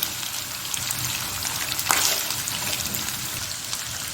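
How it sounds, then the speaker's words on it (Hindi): Ginger-garlic paste fries in oil in a karahi for mutton karahi, a steady bright sizzle and crackle with one brief louder spatter midway. The sound carries on alone without pause. "अब जाएगा जी हमारा अदरक लहसुन का पेस्ट। इसको 2 से 3 मिनट भून के"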